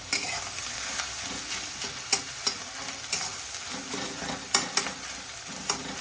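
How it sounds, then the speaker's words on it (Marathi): Egg bhurji being stirred in a pan after coriander is added, with a spatula scraping and tapping the pan at irregular intervals over a soft, steady sizzle. "आपण कोथिंबीर घालूया आणि परत हलवून घेऊया"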